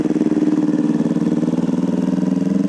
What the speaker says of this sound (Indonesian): Pakai knalpot racing nih.